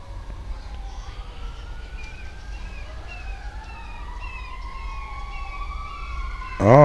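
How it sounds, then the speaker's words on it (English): Fire engine sirens wail along a street in Titusville, Florida, their rising and falling tones distant and steady across the clip, with a sharper, louder siren burst arriving close at the very end. "Oh, I got the fire engines rolling down the street too."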